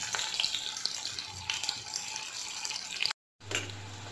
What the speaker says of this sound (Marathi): छान दोन्ही बाजूला लालसर होतील इतपत आपण त्याला परतवून घेतो आहे.